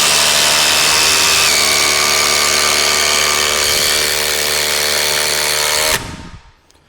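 DeWalt 20V Max XR cordless impact driver driving screws flush, a loud continuous rattling whir close up for about six seconds before it stops abruptly.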